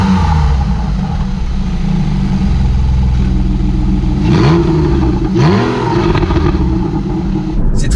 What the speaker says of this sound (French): on appuie sur ce petit bouton qui est sur la console centrale et les valves d'échappement s'ouvrent.